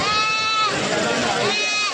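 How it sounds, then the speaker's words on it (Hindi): A goat at a busy goat market bleats twice, loud and close, with wavering nasal cries. A constant hubbub of crowd noise and nearby voices fills the background. "एक बकरी ये दिखा रहे हैं आपको।"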